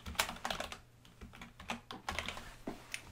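A name being typed on a computer keyboard: quick clusters of light, close key clicks in uneven bursts with short pauses between them, alone and fairly quiet.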